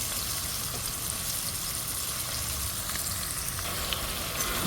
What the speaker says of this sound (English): I hold the spoon and then I add the meat to the pot